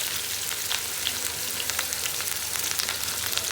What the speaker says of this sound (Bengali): প্রথমে তেল গরম করে এখানে দিয়ে দিয়েছে পেঁয়াজ কুচি